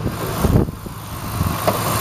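A 4.7-liter V8 engine in a 2008 Dodge Ram idles steadily nearby, a low, smooth rumble with a faint hum and no voices.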